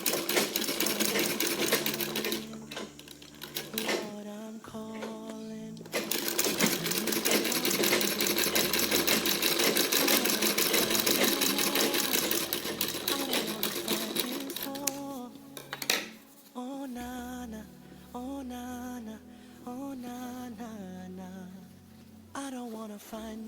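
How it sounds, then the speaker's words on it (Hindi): Sewing machine top-stitching close to the edge of a fabric tuck, a fast steady mechanical whirr with rhythmic needle clatter in long runs, broken by short pauses and quieter gaps. "देखिए इस तरह कपड़े के बिल्कुल नज़दीक में टॉप स्टिच"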